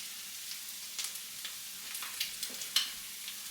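Eggs fry in a pan with a soft, steady crackling sizzle, small pops and a few light scrapes, faint and close, with no talking.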